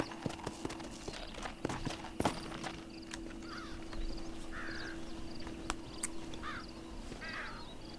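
Horse hooves clip-clop at a steady walking rhythm while riding in Red Dead Redemption, fairly close and moderately loud, with occasional crow caws and outdoor ambience around them.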